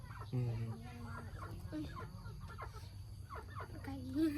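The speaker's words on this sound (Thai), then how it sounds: "ไก่" Chickens in a rural Lao village, clucking intermittently in short calls nearby, with people talking over and around them.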